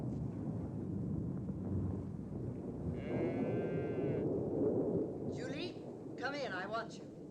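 Oxen low in a frontier cattle camp during a thunderstorm, with several drawn-out moans rising over a steady rumble of wind and distant thunder, and a voice briefly audible underneath.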